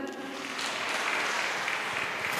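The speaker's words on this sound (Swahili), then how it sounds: "let's also clap for all our children" Congregation at a Kikuyu church service clapping for the children, a steady continuous patter of many hands filling the clip at moderate volume with no pauses.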